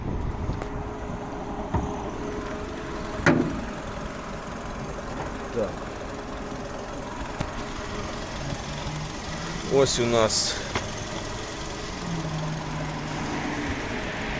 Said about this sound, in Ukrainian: Підемо подивимося, як працює наш двигун.